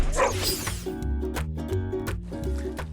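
Dog barks on a Singapore cooking show set, a series of short, fairly close woofs and yips at an uneven rhythm, with little talk.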